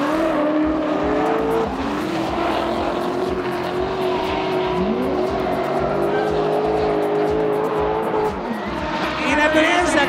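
A BMW E46 and a V8-swapped E30 drift side by side at a semi-pro competition, engines howling loud with rising and falling revs and tires hissing, while an announcer talks excitedly over the noise.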